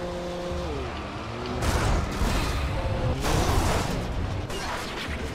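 A car in the video game Alan Wake drives with a droning engine and a gliding pitch, then rushes and roars in louder surges as it speeds along; close and continuous, with no talking.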